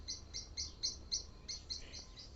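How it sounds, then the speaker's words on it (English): A Tasmanian Australian kookaburra perched close on a hand gives a quick, regular series of soft, high chirps, faint and evenly spaced, with no talking. "This is an Australian kookaburra, Tasmanian even."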